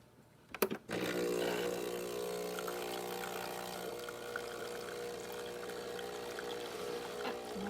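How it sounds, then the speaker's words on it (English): Water flows from a Breville Barista espresso machine, starting with a couple of clicks and a pump surge, then a steady loud buzzing pump hum with pouring underneath, continuous and close. "Yep, the water's flowing well."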